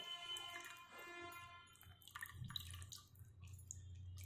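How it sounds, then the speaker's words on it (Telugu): Water dripping and trickling from fresh chhena twisted tight in a cloth while making rasmalai, a faint, uneven patter of drips heard close up with no talking. "ఇలా వాటర్ అంతా పిండియాలి"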